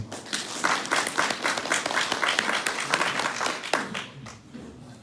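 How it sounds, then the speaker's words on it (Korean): Audience at a cherry growers' general meeting applauding to welcome a speaker, a lively burst of clapping with distinct nearby claps that fades away toward the end. "박수로 환영해 주십시오"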